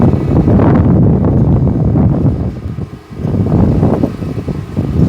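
Strong wind buffets the microphone outdoors, a loud continuous low rumbling roar that dips briefly before surging back.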